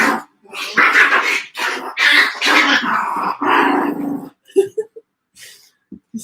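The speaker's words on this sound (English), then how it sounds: "My dog makes me nervous when he starts going around." A dog growls and barks nearby in a long run of rough, loud, close vocalizations, then trails off into a few short yips and snorts.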